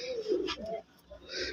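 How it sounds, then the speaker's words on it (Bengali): A male pigeon coos nearby in a loft, a couple of low rolling coos with a short pause between, close and clear. "এই যে একটু ডাকটা দেখেন তাইলে বুঝবেন যে আসলে কত সুন্দর একটা নর কবুতর"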